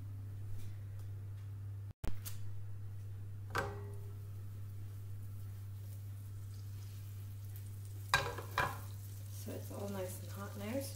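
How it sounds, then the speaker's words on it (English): Salted and peppered lamb browns in a pan of olive oil and butter, a faint steady sizzle beneath a constant low hum, with a few brief clatters of stirring. "I have the meat already prepared, so I've put salt and pepper on it, and then we're going to fry it off."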